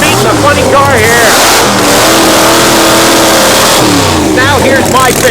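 A drag racing funny car engine roaring and revving loudly and close, with repeated surges in pitch, under a commentator's talking.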